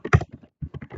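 Fingers type on a computer keyboard: a quick cluster of close, crisp keystrokes, a short silent gap, then several more taps in brisk succession.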